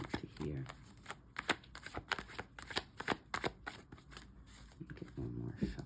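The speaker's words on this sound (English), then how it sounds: "Get one more shuffle in for you." Tarot cards being shuffled by hand at close range, quick rhythmic riffles and soft slapping taps in uneven bursts, fairly quiet, with a voice talking softly under the card sounds.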